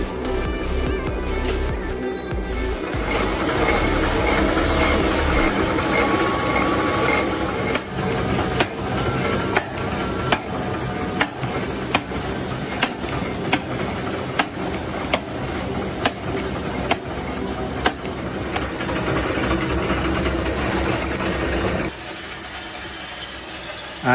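A mustard oil pressing machine runs with a steady mechanical rumble and whir, broken by regular sharp clicks or knocks, then drops to a quieter hum near the end.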